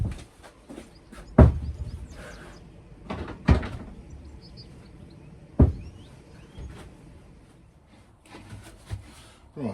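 A galley cupboard door on a narrowboat is offered up and moved on its hinges, giving several sharp wooden knocks and thuds spaced a couple of seconds apart amid quieter handling rustles and small creaks.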